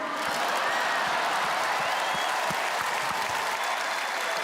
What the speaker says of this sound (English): let's get a massive round of applause for my support team